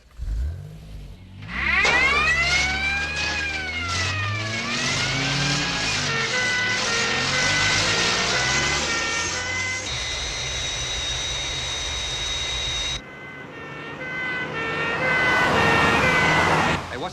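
Airport crash tenders race toward the centre of runway 29 with wailing sirens, loud rising and falling tones over revving engines, then a steady high tone and a swelling roar near the end.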